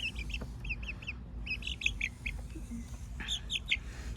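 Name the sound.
meat turkeys gobbling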